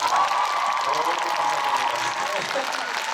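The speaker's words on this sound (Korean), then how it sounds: "다시 한 번 박수 주시기 바랍니다" An audience at the Daegu International Musical Festival applauds after a performance, with dense steady clapping and some speech and cheering mixed in.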